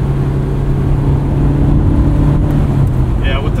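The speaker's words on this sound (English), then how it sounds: "perfect balance of intake, induction sound, and exhaust" Honda S2000 from 2001, driven with the top down, giving a steady engine drone of intake, induction and exhaust under strong wind rush, continuous and fairly loud throughout.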